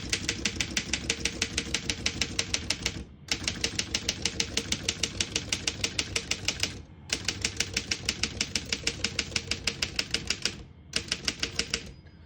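A 1917 Underwood No.5 portable typewriter types in fast, even bursts of sharp key strikes, loud and close, with brief pauses between runs where the carriage shifts; no one speaks over it.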